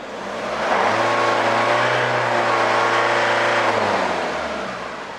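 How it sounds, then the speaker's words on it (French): A van's engine is revved hard during an emissions opacity test, climbing quickly to a loud sustained roar that holds for several seconds and then falls away, close and with no talk. "Je vais avoir 2 accélérations à faire"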